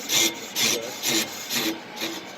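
A PROCUT PFM 9.2 on-car brake lathe cuts the lip on the inside edge of a brake rotor, giving a loud, rough, rasping scrape that pulses in about five even surges.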